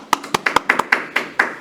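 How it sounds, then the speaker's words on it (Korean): An audience claps for a lecturer in a run of sharp hand claps at a brisk, steady pace, about ten in under two seconds, close and fairly loud with no talking. "다시 한번 뜨거운 박수 부탁드리겠습니다"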